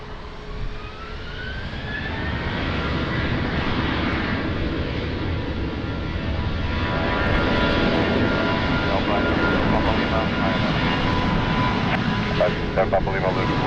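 A Ryanair jet airliner takes off from runway 20 at Lisbon Airport. Its engine roar swells over the first few seconds, then holds as a loud, sustained, broadband rush.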